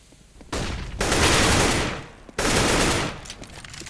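Gunfire in a professional Counter-Strike match between Fnatic and Ninjas in Pyjamas: two loud, close bursts of rapid automatic fire, the first longer and the second shorter, set against quieter game ambience.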